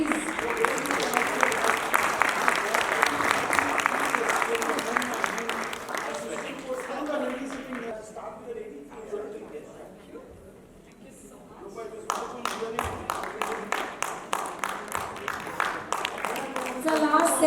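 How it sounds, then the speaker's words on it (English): Audience applause at an education summit session: dense clapping rises and holds, thins to near quiet midway, then returns in a second burst of sharp claps. "Can we hear an applause,"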